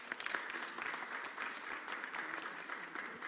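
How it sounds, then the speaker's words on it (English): An audience claps at a Philadelphia city event announcing a union contract. The applause is steady and sustained, a dense patter of many hands from a medium-sized crowd, with no voices over it. "Please give Sincere Harris a round of applause."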